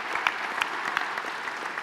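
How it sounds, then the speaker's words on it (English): Steady audience applause at a fireside chat event, moderately distant and even, with scattered sharper claps standing out from the continuous patter. "Let's give that a round of applause"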